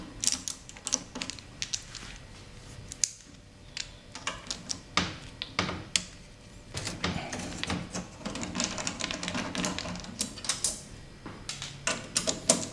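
A technician takes the top off a Crem One 1B HX espresso machine with Phillips and flat screwdrivers, giving close, irregular clicks, ticks and rattling metal-on-metal handling noises.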